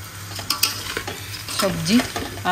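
Rice for pulao being stirred in a pot, short scraping and rustling strokes with a few light metallic clinks of utensil against the vessel over a soft sizzle.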